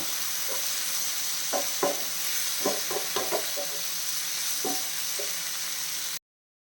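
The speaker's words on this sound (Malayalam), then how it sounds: "ഇത് തക്കാളിയും കൂടെ ഇട്ട് കൊടുക്കുന്നേ ചേർത്തിട്ട് നല്ല രീതിയിൽ ഒന്ന് വഴറ്റണം" Onions and tomato sautéing in a pan for a restaurant-style paneer masala, with a steady sizzling hiss throughout and a few scraping stirs and clinks of the spatula spaced irregularly, then a sudden cut to silence near the end.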